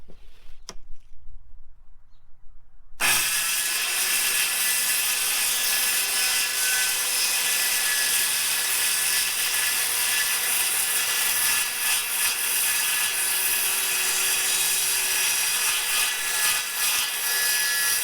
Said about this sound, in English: I was gonna cut that piece off the jigsaw.